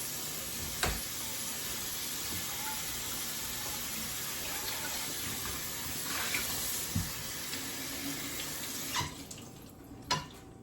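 Tap water runs steadily into a sink while a cloth is rinsed under it, a constant close splashing hiss broken by a few brief clunks and sloshes, ending as the flow cuts off; no talk.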